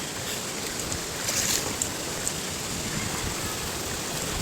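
A strong river current rushes at the Sitio Piapi crossing in Mauban, Quezon, a steady broadband roar of flowing water with surges and splashes, close and continuous with no voices.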